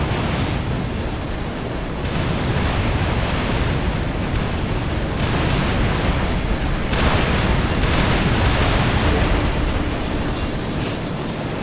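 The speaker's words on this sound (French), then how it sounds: "En explosant, cette tourelle détruira le noyau." A turret explodes in the game Ratchet & Clank: A Crack in Time, a loud, sustained, roaring blast that rumbles on without pause for several seconds, with no speech.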